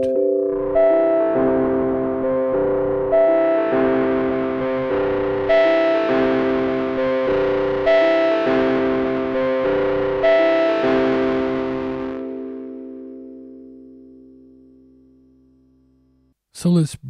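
A synthesizer playing sustained chords through the Ohmforce Ohmicide distortion plugin, a buzzy, harmonically rich tone moving in rhythmic chord changes, then a long ringing decay into silence before a short final blip.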